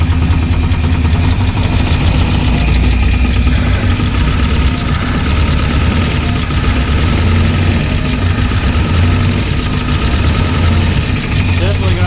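A 1963 Studebaker Champ truck engine, revived after 30 years stuck, idles loudly and steadily close by, with a constant low throb and valve train chatter throughout.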